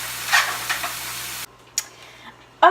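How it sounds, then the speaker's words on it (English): Spinach goes into a pan of sauteing vegetables, giving a soft sizzle and a few stirring scrapes and clatters, brief and close, with faint hissing between bursts and no talking. "I'm gonna go ahead and add my spinach"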